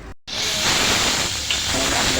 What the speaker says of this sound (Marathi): एक पाच मिनटं वाफ काढणार आहोत